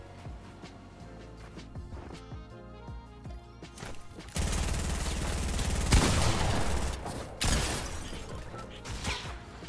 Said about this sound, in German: Ein Heavy Sniper.